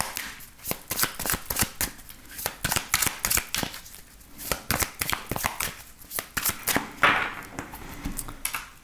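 Tarot cards shuffled by hand up close, a rapid run of crisp riffling flutters and slaps in irregular bursts with short pauses, loud and with no talk.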